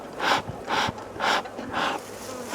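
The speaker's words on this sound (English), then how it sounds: "See if we can remove a few of these bees." Honey bees buzz around an opened hive during an early spring split, in close, rhythmic swells, the droning rising and falling about four times in a few seconds.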